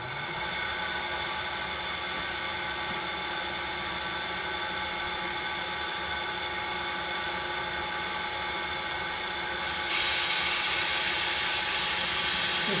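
A Bridgeport milling machine runs slowly while a 6mm tool steel end mill cuts, giving a steady, loud motor whine and grinding that continues unbroken for over twelve seconds and brightens slightly near the end.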